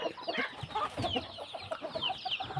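Several hens of a fighting-cock breed clucking softly nearby in short, irregular bursts, with no talking.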